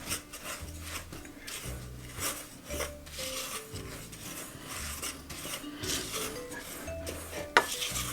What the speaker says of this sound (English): ginger and your baking powder. Just stir that in.